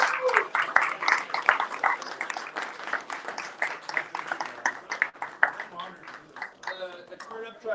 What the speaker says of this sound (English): Let's give a big round of applause to Turnip Truck.